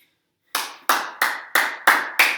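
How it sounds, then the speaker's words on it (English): Six sharp hand claps at an even, steady pace, close and loud after a brief silence, ending a bodyweight strength workout session. "Big hand clap for you guys."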